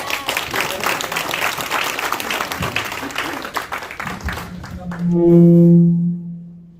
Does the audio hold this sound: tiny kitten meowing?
no